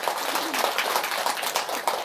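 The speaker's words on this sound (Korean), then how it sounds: "박수 한번 드리세요" An audience at a Buddhist monk's lecture applauds, a continuous, moderately loud patter of many hands clapping, with a faint voice partly audible underneath.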